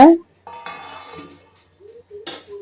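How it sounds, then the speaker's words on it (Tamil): A plate set down as a lid over a pot of chicken dum biryani, a short clink of metal and ceramic with a brief ringing tone, followed by a couple of light knocks, close and clear. "இப்போ ஒரு பிளேட் போட்டு நல்லா மூடி வச்சிடலாங்க"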